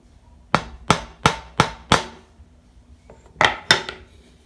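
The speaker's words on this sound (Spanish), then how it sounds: "Ponemos el formón bien poquito, bien alineado en nuestra marca y le damos unos golpes." A hammer drives a wood chisel into a marked line on a piece of wood, five sharp, evenly spaced strikes, a brief pause with a light clatter, then two more blows, close and loud with no talking.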